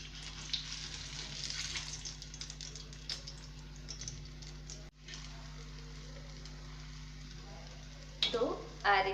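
Potato patties for ragda pattice frying slowly in plenty of oil over low heat, a soft crackling sizzle with a brief dropout midway and a few louder clatters near the end.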